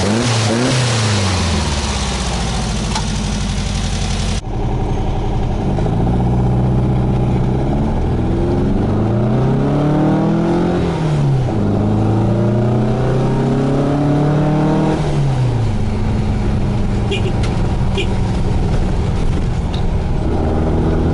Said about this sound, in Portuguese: A gente colocou o abafador, o barulho nunca mais vai ser o mesmo como estava sem abafador.